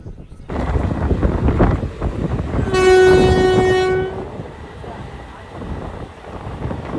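A train departing Katwa Junction rumbles loudly along the tracks with wind buffeting, and a long horn blast sounds midway; faint voices come through.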